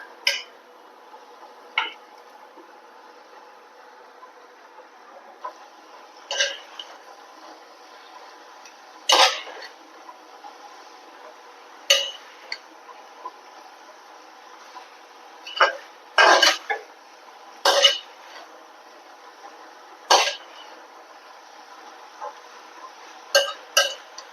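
Fried chicken goes into a pot of chicken biryani. Sparse metallic clinks and taps of a utensil against the pot come at irregular intervals over a quiet background.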